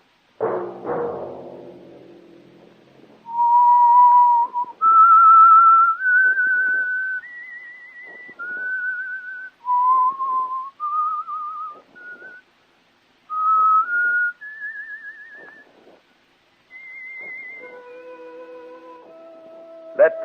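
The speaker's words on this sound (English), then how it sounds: "Let that whistle be your signal" A person whistles a slow tune as a 1940s radio drama theme, clear sustained notes with short pauses between phrases, after a brief rustle at the start.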